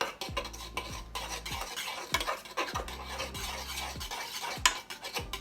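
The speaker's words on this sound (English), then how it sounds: "We're going to stir that around." A spoon stirring thick blueberry BBQ rib sauce with ketchup in a pot, scraping in repeated close strokes with a light sizzle beneath, alone without voices.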